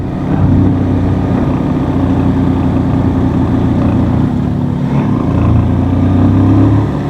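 A motorcycle engine labouring steadily uphill on an unpaved rural road, a loud, continuous close drone that holds nearly constant with slight swells.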